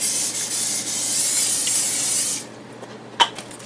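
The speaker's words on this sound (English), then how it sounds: "I'm going to spray with some olive oil spray" A continuous hissing spray of olive oil cooking spray into a crock pot lasts about two and a half seconds, close and fairly loud, then stops, followed by a short faint clatter.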